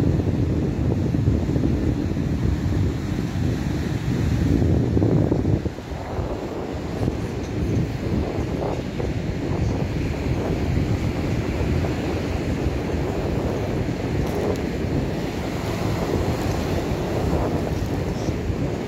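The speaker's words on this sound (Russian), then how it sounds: "У нас шторм в Архипке." Stormy sea surf rolls onto the shore at Arkhipo-Osipovka on the Black Sea in the off-season, a dense, continuous roar of breaking waves with steady wind buffeting the microphone throughout, loud and close.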